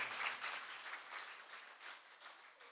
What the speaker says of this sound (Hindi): इनके लिए एक जोरदार तालियों से इनका स्वागत किया जाए।